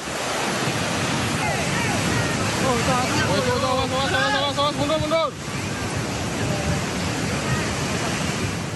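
Flash flood water rushing over a collapsed national road on the Trans-Sumatra route, a loud steady roar of surging water throughout with a voice talking over it in the middle.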